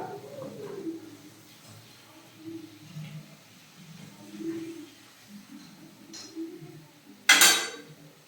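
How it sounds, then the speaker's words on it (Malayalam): Chicken legs being turned and mixed with pepper masala in a pan, quiet clinks and scrapes of a utensil against metal spread through, ending in a sharp louder clatter. "നന്നായിട്ടൊന്ന് മിക്സ് ചെയ്ത് കൊടുക്കാം."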